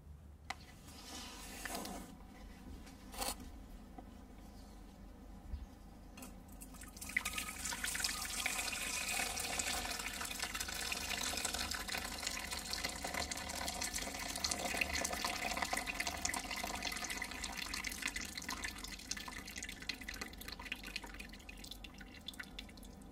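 Water trickling and dripping steadily from a ramen noodle strainer as it drains, a continuous close wet patter that grows fuller after the first few seconds, with no talking.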